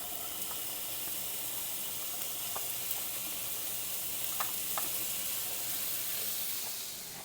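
Chopped vegetables sauté in a pan for homemade Sunday sauce, a steady close hiss and sizzle with occasional small pops and crackles.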